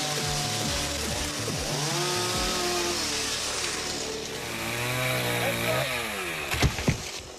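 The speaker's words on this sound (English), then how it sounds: "You wanna grab that chainsaw?" A chainsaw cuts up a tree branch by a lakefront cabin, its engine whining and bogging in pitch as the chain bites through the wood, steady and close, with a few sharp knocks near the end.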